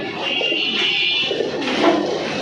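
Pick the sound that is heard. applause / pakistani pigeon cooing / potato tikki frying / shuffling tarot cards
pakistani pigeon cooing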